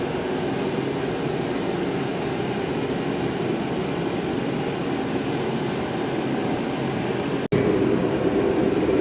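A garage heater running as a loud, steady broadband roar that carries on evenly, then cuts out sharply for an instant before resuming just as loud.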